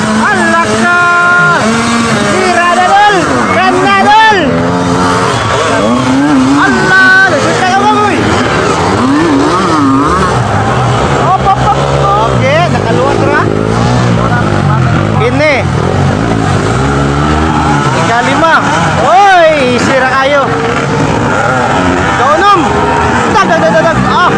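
Dirt motorcycles race on a muddy circuit trail at a competition in Sumpong. Their engines rev and whine in rising and falling sweeps throughout, loud and close, mixed with shouting and chatter from onlookers.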